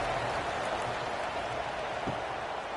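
Steady stadium crowd noise fills a college football video game, EA CFB 26, Delaware versus Northwestern, as a dense, even roar of many voices holding at a constant level throughout.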